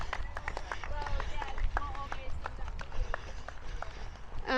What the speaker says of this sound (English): I love it when the team's all clapping